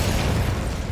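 A Glacius ice spell cast in Hogwarts Legacy bursts out as a loud, dense blast with a deep rumbling low end that holds steady for nearly a second, heard alone.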